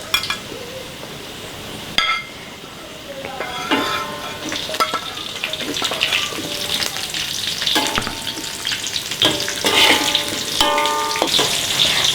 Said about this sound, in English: Also cook the garlic until it's soft and stir it occasionally. And now add the chili.